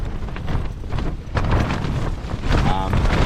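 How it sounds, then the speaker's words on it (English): Strong storm wind buffets a clifftop campsite, roaring and gusting loudly against the microphone in rough surges, with someone speaking over the blustery noise. "The wind is picking up."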